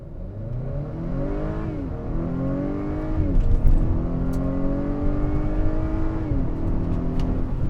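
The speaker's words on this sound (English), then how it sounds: "twist this bad boy into Sport Plus mode, traction control off, lay off the brake, smash the accelerator" A 2021 Acura RDX A-Spec accelerating hard in Sport Plus with traction control off: a loud, close engine roar climbs in pitch, drops at each gear shift and climbs again through several gears.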